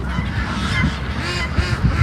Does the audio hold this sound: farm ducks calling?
yes